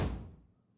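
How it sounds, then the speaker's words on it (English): A door slamming shut in the train simulation Derail Valley, a single close, heavy thud that decays quickly into silence within a fraction of a second. "Geez, slamming the doors around here"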